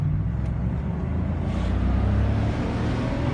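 A Range Rover P38 engine pulls hard under acceleration, a deep, steady rumble heard from inside the car with a low drone rising gradually in intensity, and no voices.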